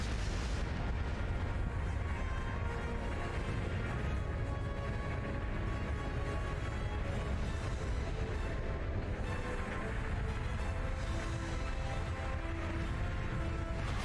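Railway cannon artillery fire in the Trails of Cold Steel 4 video game, a continuous loud rumble of booming blasts and low explosions layered with battle noise, with no voices.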